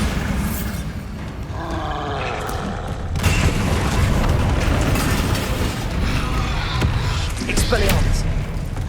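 Bombarda blasting spell in Hogwarts Legacy, a loud booming explosion mid-clip that follows earlier spell effects and combat noise, with a roaring, rumbling tail.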